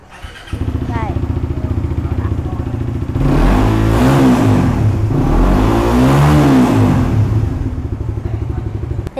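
A 2019 Suzuki Bandit 150 motorcycle is started and left running close by, with a steady idling chug that swells into louder revs in the middle before settling back. Someone talks briefly over it.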